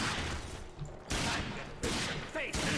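Gunfire in the video game Rage, several sharp loud shots in quick bursts with short gaps between them, a faint voice beneath.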